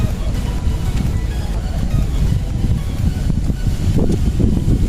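Strong wind buffeting the microphone in continuous rumbling gusts outside the PICC, loud and low, with outdoor ambience behind it.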